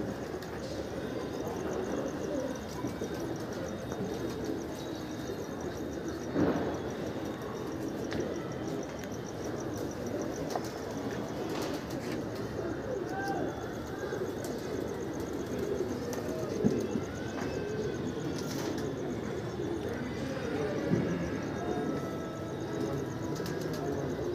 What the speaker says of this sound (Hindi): और बाकी ये कबूतर चल रहे भाई।